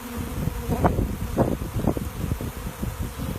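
Bees buzz close by in uneven bursts as they are moved to a new hive, droning swells rising and falling over a low rustling background.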